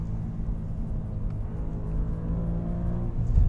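Alfa Romeo Giulia Quadrifoglio with about 500 horsepower cruising a tight back road, its engine a steady low rumble and whir heard from inside, swelling slightly near the end.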